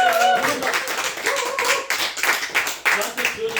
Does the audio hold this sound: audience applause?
yes